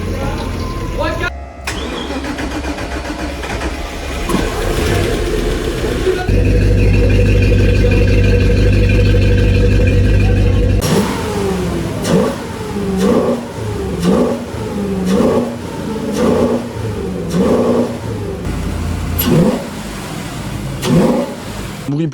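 The engine of a restored wooden boat cranks and catches, then idles loudly and steadily before revving up and down in repeated bursts, with voices heard briefly over it.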